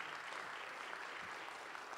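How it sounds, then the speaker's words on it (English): A crowd applauds steadily with dense, continuous clapping that holds at an even level throughout. "So let's have a round of applause for Annie, can we?"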